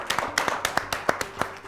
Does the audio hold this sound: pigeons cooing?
no